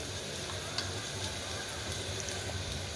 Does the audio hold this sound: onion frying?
yes